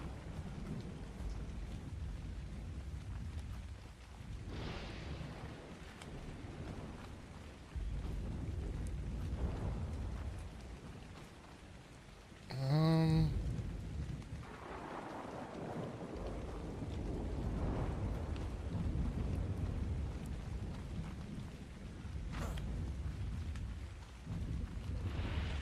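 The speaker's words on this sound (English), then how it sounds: "Nice if it wasn't raining all the time." Steady rain with rolling thunder in ARK Survival Ascended on the Ragnarok map, with a loud thunder crack near the middle and continuous rainfall throughout.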